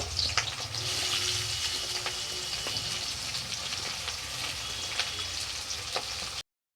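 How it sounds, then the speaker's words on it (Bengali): Onions frying in oil for a mutton curry, just after potatoes were fried, give a steady, close broadband sizzle with faint scrapes of stirring throughout, no voices, ending abruptly. "পেঁয়াজগুলো দিয়ে দেবো পেঁয়াজগুলো বেশ লাল করে ভেজে নেব"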